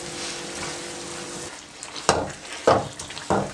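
Carrot and semolina halwa cooking in ghee, its soft sizzle running steadily before a few sharper stirring scrapes and clatters of a spoon in the pan near the end.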